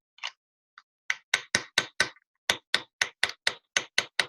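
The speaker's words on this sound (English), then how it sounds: "we're using a fairly pointed chisel, but it's very rounded, very smooth" A rounded, smooth, fairly pointed chisel struck by a hammer during chasing and repoussé metalwork, a dozen or so sharp close taps in a quick, fairly even rhythm after a few sparse opening hits, with no talk.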